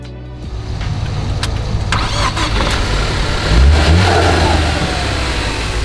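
A Ford Focus ST cranks briefly and catches after a jump start, its engine settling into a loud, close, steady idle with a slight rev in the middle.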